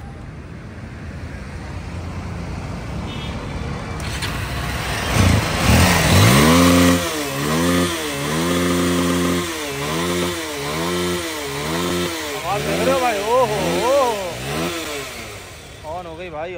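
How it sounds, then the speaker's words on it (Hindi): A Bajaj Pulsar motorcycle, an old bike just repaired, starts after a few seconds of background noise and then idles with a steady, loud engine chug, blipping the throttle several times, while someone talks over it. "बाइक हमारी ऑन हो गई भाई, चेक करो भाई पल्सर ऑन हो गई भाई"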